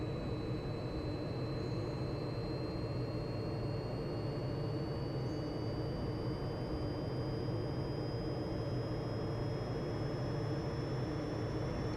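In the IL-2 Korea flight simulator, a military aircraft's engine builds to a steady, loud roar as the throttle opens for takeoff on a runway, with a faint rising whine over the drone and no voices.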